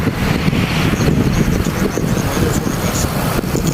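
Strong wind buffets the microphone during a bicycle ride along the Corniche in Doha, Qatar, a steady, loud, rumbling roar of wind noise with no talking.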